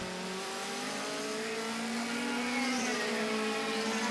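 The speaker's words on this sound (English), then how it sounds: "He really is harrying the Audi in front, the blue machine, flames spitting out of the V8 engine." V8 engine of an Audi DTM race car at Brands Hatch, a sustained loud roar with rising and shifting engine pitch while racing, continuous throughout with no talk.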